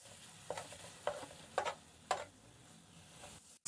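Makhandi halwa mixture is stirred in a pan, with four distinct scraping strokes at a steady pace over a faint sizzle, close and quiet.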